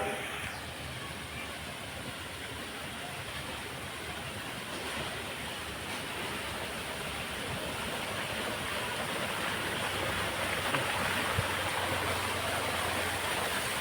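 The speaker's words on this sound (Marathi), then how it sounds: "धबधबा तयार केला इथे" Artificial waterfall in a garden, its water flowing in a steady, dense rush that holds evenly for the whole stretch, close by and without any voices.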